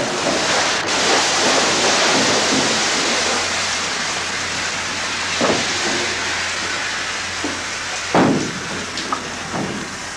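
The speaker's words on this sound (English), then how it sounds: "An engineer runs the steam engine, while Albie takes the helm" Steam engine aboard the paddle steamer Melbourne cruising on the Murray River, a loud, continuous hiss and rush with a low rumble, and a few brief knocks and thumps over it.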